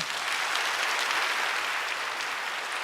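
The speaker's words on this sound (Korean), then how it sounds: "우리 박수로 축복해 주시기 바랍니다" Church congregation applauding at a Sunday worship service to bless the newly baptized, a steady dense wash of many hands clapping throughout, fairly distant and even, with no talk.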